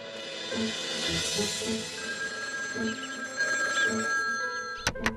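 A telephone rings in a Bangla cartoon: a continuous electronic trilling ring with steady repeated pulses over a soft background hum, ending with a couple of sharp clicks.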